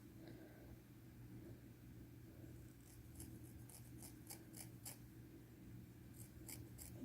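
Scissors cut hair at an angle for bangs in an at-home salon session, a series of quiet, close crisp snips over a soft low hum with no talking.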